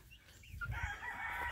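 Free-range chickens in a yard, with faint clucking and a brief crow-like call amid low outdoor background noise, distant and quiet.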